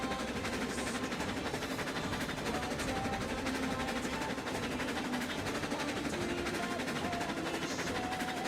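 A coal-fired steam locomotive runs along a railroad in the morning, giving a steady, moderately quiet rumble with faint rhythmic clatter throughout and no clear talk.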